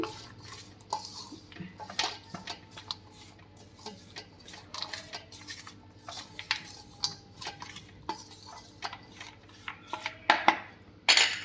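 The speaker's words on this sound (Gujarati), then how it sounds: "એને એમાં એડ કરશું અને સારી રીતે બધું મિક્સ કરી દઈશું આપણે" A metal spoon stirs powdered sugar into lapsi, a traditional Gujarati cracked-wheat sweet, in a pan: soft irregular scraping and clinking taps, close and fairly quiet, with no voices.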